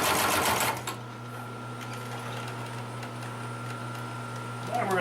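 A Consew 733R-5 heavy duty lockstitch sewing machine runs steadily through thick stacked layers of material, a loud burst at the start settling into a constant hum with bright tones, then picking up again at the end.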